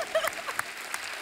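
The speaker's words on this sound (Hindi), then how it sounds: "जोरदार तालियां" Studio audience applause on a comedy talk show, a brief burst of clapping with voices speaking through it.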